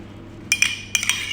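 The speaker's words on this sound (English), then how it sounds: "I'm gonna stir this up a bit" A fish marinade of olive oil stirred in a dish for blackened snapper, two brief clusters of metallic clinks from a utensil against the bowl.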